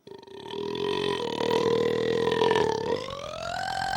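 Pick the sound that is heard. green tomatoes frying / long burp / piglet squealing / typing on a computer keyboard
long burp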